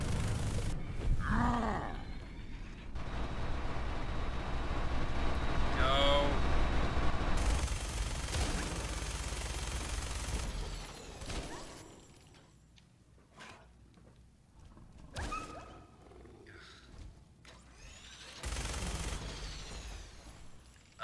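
Gunfire aimed at a creature in Fallout 4, a few sharp shots and clatters over a low rumbling ambience, followed by quieter scattered thuds and brief noises.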